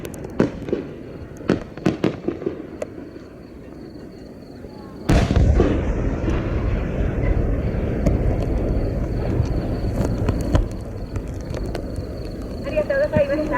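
A competition fireworks shell at the Yatsushiro national fireworks competition festival bursts with a sudden loud boom at mid-clip, followed by a long rumbling crackle, after sparse distant pops and faint talk from the crowd.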